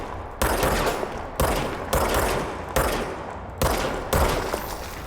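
Automatic gunfire rattles in the video game Control, several loud sustained bursts separated by brief pauses, close and dominant with no talking.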